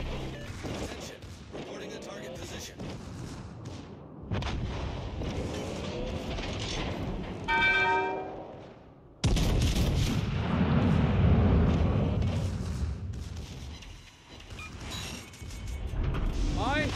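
Naval guns firing in World of Warships Legends, heavy booming salvos and rumbling impacts over a dense background of game audio, with a voice talking over parts of it.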